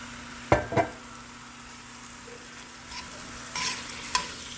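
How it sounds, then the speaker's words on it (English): Chicken with Cajun seasoning fries in oil for Cajun chicken pasta, giving a faint, low sizzle under a few sharp utensil clicks and knocks. "Heat the oil, add the chicken and the Cajun seasoning and cook"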